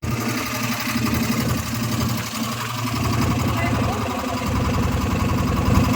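A boat engine runs steadily on a river near Honnavar, a continuous close droning hum with rhythmic vibration throughout, no clear breaks, with some background chatter.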